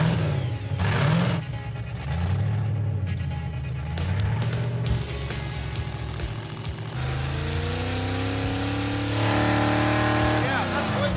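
A supercharged Jeep crawls in low range with front hubs unlocked in two-wheel drive, its engine droning and rising through several revs, loud and close, with steady mechanical roar throughout.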